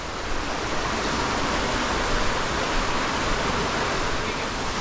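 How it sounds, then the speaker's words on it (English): A 100-foot waterfall in Montezuma, Costa Rica roars in a loud, dense, unbroken rush of falling water, heard up close and steady throughout with no voices over it. "look at that beautiful waterfall"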